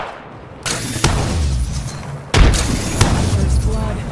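A frag grenade goes off in a first-person shooter video game, a loud booming blast that lands twice in quick succession with a dense, roaring wash of combat noise behind it.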